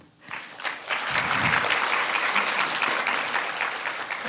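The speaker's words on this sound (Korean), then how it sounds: "큰 박수로 맞아주세요." An audience bursts into applause as a former Supreme Court justice, Kim Young-ran, is welcomed onstage at a 2014 lecture event; the clapping swells within the first second and holds as a dense, steady roar.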